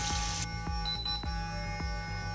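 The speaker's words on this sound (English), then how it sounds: "it's gonna beep when it's time to move to a different section of my face." A facial cleansing brush gives a short electronic beep once over its steady low motorized hum, with faint tonal blips following as the device keeps buzzing.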